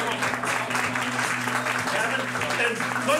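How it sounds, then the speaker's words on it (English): Audience applause at a mayoral debate held in a music venue: steady, dense clapping from a crowd lasting a few seconds, close and moderately loud, with some voices mixed in. "can we have another round of applause for Dr. Dan Nataf, who came all the way."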